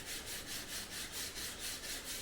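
Heavy fiberglass on a Chevy dashboard being sanded by hand, a steady rhythmic rasp of quick back-and-forth strokes, about four per second, close and continuous with no talking.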